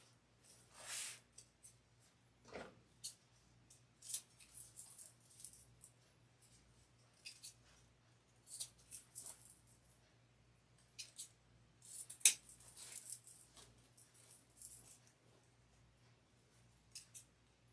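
Scissors trimming paper while crafting, a series of quiet crisp snips and rustles spread irregularly over the span, close-up against a faint steady hum, no talking.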